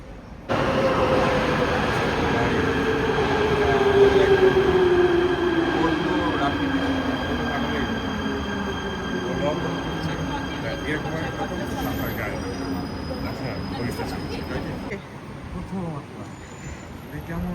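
A Prague metro train runs through a station, its loud, close motor whine sliding steadily downward in pitch as it brakes over a constant rumble and steady rail noise, with faint higher tones drifting in near the end.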